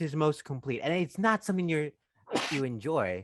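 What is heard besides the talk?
sneeze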